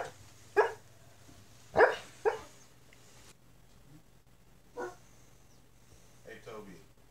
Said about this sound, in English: The dog is having some dreams.